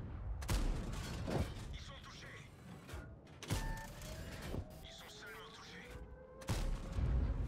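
Tank gun shots in a video game, several sharp booming blasts spaced a few seconds apart with faint in-game engine and mechanical sounds between them, someone talking at moments.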